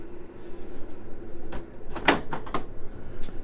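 A few sharp wooden knocks and a short sliding rumble as a pots-and-pans drawer in a 2015 Winnebago Itasca Suncruiser motorhome kitchen is pulled and pushed shut nearby, against a quiet room hum.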